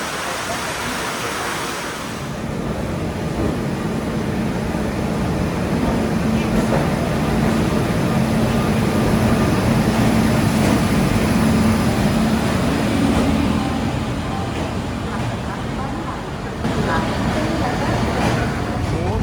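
A continuous rumble of a moving train from inside the carriage on the Tirunelveli–Jamnagar route toward Goa, steady and droning throughout, with occasional faint voices.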